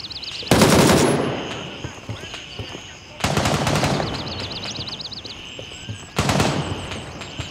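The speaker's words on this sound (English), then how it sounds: "Where's he just shooting me from?" Three bursts of rapid automatic gunfire in the video game Gray Zone Warfare, each loud and close with a dense rattling roll that tapers off, separated by short lulls with faint ambient noise and chirping electronic tones.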